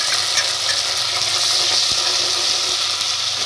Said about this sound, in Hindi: इसको डाल के भूनेंगे।